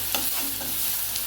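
Garlic paste fries in a pan for a hilsa fish curry with aloo and begun, making a loud, close, continuous sizzle broken by quick stirring scrapes.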